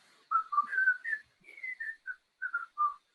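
A person whistles a short melodic tune, a dozen clear notes rising and falling with brief gaps, close and alone.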